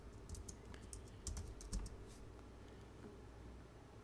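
Quiet clicking of a computer keyboard, a short burst of keystrokes up close with no talking.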